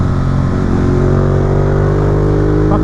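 Ducati Monster 821 A2 motorcycle engine holding a steady, loud, close drone with a slight rise in pitch, continuous throughout with no talk.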